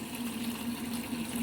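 A high-speed lobe pump filling machine draws water from its hopper in suction mode, giving a steady, continuous liquid rush over a constant low mechanical hum, close and even throughout with no voices.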